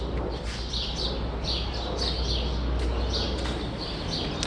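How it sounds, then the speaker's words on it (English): Birds chirp and call repeatedly outdoors beside a road, their short bright tweets steady and moderately near over a constant low rumble of traffic, with no talking. "But the birds, you hear them?"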